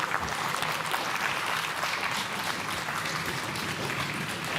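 An audience at a primary school cup-stacking contest gives a steady round of applause for a school team, a continuous distant patter of many hands.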